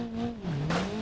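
A struggling car engine in the BeamNG Drive driving game drones unevenly, its pitch sagging and then recovering in a brief, moderately loud burst with no talking.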